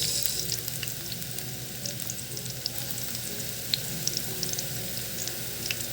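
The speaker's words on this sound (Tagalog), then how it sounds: "painitin muna natin ang bawang para maamoy siya guys" Garlic frying in a pan while cooking ginisang ampalaya, a continuous close sizzle with crackling pops and occasional stirring scrapes, fairly loud and alone.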